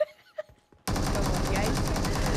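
Rapid automatic gunfire in the video game PUBG Mobile bursts in loudly partway through after a few faint sounds and continues as a dense, sustained stream of shots to the end.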